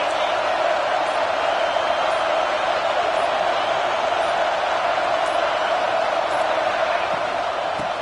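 A football stadium crowd cheering during a big third-down play: a dense, continuous roar of many voices that holds steady from start to finish.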